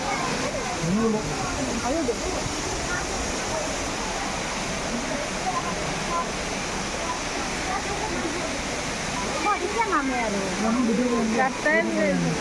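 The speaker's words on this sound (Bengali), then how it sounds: "নিচে ঝর্নার জলটাই পড়তেছে।" Waterfall water in Meghalaya crashing down in a steady, dense roar that fills the whole scene, with voices talking over it in places.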